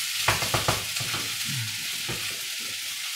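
Food sizzles quietly in a pan while rice cooks, with a few quick utensil scrapes and stirring taps early on and a soft continuous fry hiss after, no talking.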